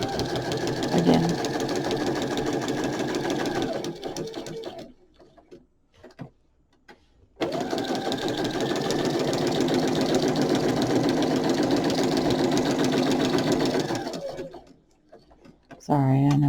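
A sewing machine stitches a fern embroidery in fast, even bursts of rapid needle clatter, stopping twice for short quiet pauses before starting again, loud and close.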